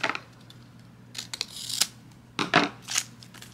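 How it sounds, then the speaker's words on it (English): Scissors snipping tags off clay bead bracelets, several quick crisp cuts spaced irregularly, close and fairly quiet with no talking. "let's cut all of the tags off"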